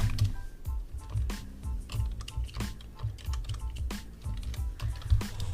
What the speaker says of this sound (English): And I'm typing away